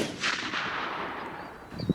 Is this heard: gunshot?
yes